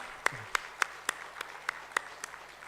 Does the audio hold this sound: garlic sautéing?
no